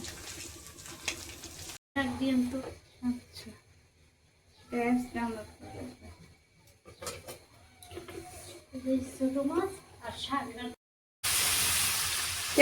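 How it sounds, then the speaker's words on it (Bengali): Small fish frying in hot oil in a pan, a bright sizzle that comes in bursts between pauses, with someone talking over it throughout. "প্রথমে মাছগুলো ভালো করে ভেজে নিচ্ছি"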